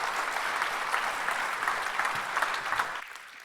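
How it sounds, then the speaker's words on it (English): A conference audience gives a speaker a steady round of applause, the dense clapping holding throughout before thinning out near the end. "Please give Clive a big round of applause."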